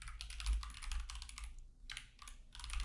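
Quiet typing on a computer keyboard, a steady patter of light key clicks with a brief pause midway, close and soft, with no talking.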